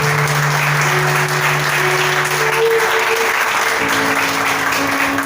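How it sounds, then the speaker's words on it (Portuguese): A church congregation applauds loudly and steadily during a worship service, a full sustained wall of clapping with faint sustained music tones underneath. "você pode dar uma salva de palmas para Jesus bem forte"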